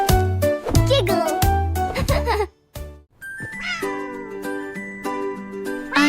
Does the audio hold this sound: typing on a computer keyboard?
no